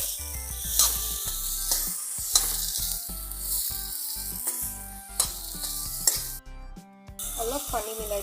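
Spice paste is stirred into frying brinjal (eggplant), with loud sizzling and crackling broken by sharp clinks and scrapes of a utensil against the pan, and brief pauses between strokes.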